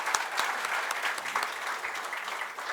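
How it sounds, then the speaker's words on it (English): A hall audience at an event applauds the organizing team, with many hands clapping in a steady, fairly close ovation, a few sharper individual claps standing out above the crowd. "A big round of applause for this team who has put together today's event."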